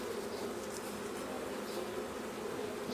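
A honey bee swarm buzzes around hive frames, a dense, steady, close drone of many wings that holds even and unbroken throughout with no talking.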